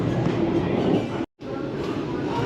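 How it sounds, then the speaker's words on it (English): Brightline passenger train running through Fort Lauderdale, Florida, a steady rumbling roar with faint rail noise, cut by a short break of silence midway. "Even boaters are getting used to seeing Brightline trains come through here."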